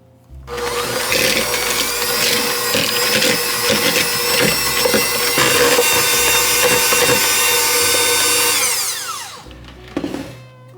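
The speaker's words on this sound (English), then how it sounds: "now we're just gonna mix the cream cheese and the ingredients together in a bowl until it's very creamy" A mixer beats cream cheese and other ingredients together in a bowl for a cheese danish filling: a loud, steady motor whir with rattling runs for about nine seconds, then winds down and stops.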